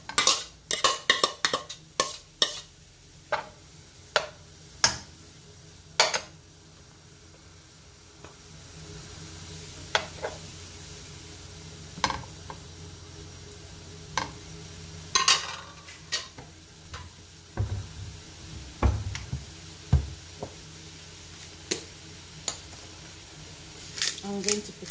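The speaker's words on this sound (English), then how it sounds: "Into this pot, I'm going to put my meat." Meat for lasagne stirring and sizzling in a pot, with scraping stirs and short clatters of a utensil against the pot recurring throughout over a steady low hiss, close and fairly loud.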